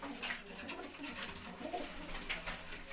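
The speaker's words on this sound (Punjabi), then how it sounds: "ਗੋਲਡਨ ਕਬੂਤਰ ਹੈ ਜੀ" A golden pigeon coos in soft, repeated throaty calls at close range against a quiet background.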